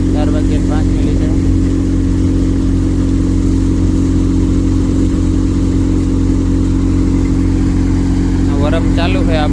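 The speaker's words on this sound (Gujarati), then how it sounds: "ટ્રેક્ટર ચાલુ કરી દીધું" An Eicher Super Power 380 diesel tractor of 44 hp, working with a thresher, runs at a steady, loud, droning idle that holds throughout, with someone talking briefly at the start and again at the end.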